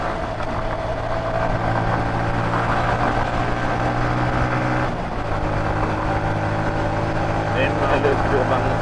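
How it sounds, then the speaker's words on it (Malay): A Yamaha FZ150i clutch motorcycle runs through traffic, its engine humming steadily up close, with a brief dip and shift in tone as it changes gear midway. "Bila pakai motor clutch ni asyik tukar gear je."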